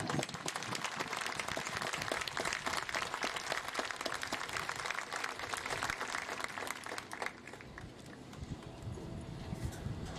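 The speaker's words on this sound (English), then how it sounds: "So I would like everyone to give her a big round of applause." Large crowd clapping for a teacher at a high school graduation ceremony, a dense, sustained wash of applause that runs about seven seconds before thinning and then lingering more quietly.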